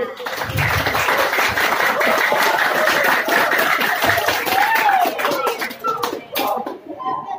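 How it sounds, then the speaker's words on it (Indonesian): Audience clapping for about seven seconds at a community gathering for orphans at an Islamic foundation, dense and steady, with crowd voices and cheering mixed in, tapering off near the end. "Tepuk tangan buat Kang Sodik."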